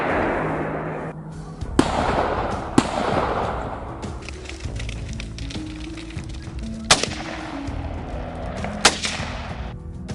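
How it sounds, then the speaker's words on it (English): Gunfire during a wild boar hunt rings out across an open field: several sharp, loud shots spaced a second or more apart, each with a rolling echo, over a rumbling outdoor background. "Then a barrage of gunfire echoes across the field, swiftly dropping several boars"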